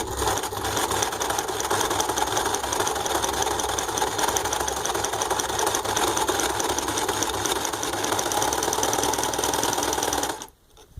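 A domestic sewing machine fitted with an imitation overlock presser foot runs continuously at an even, fast rhythm, whirring and clattering close by before stopping abruptly at the end.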